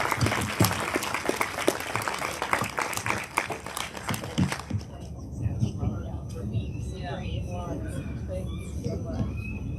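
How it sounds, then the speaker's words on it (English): Crowd applause at a cold outdoor overdose awareness event, dense clapping for about five seconds that stops abruptly, followed by someone speaking over faint background noise. "and we'll do one more round of applause."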